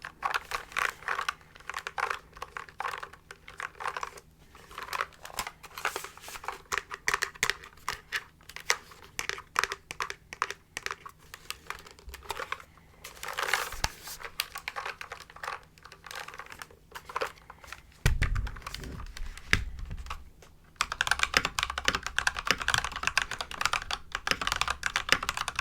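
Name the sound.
typing on a mechanical keyboard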